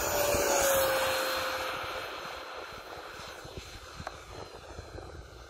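A French-built MiG-15 model jet engine run up to full throttle for takeoff, a loud steady turbine roar with a high whine that eases slightly as the model rolls away.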